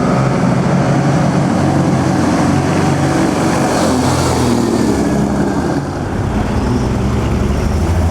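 A Ferrari passes during the 2008 Mille Miglia road race, its loud, continuous engine roar filling the scene with a broad wash of noise that holds steady throughout, with no voices.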